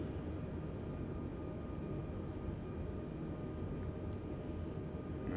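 A steady, droning aircraft engine hums continuously over an airport in Microsoft Flight Simulator 2020, with a constant broadband whine and no speech.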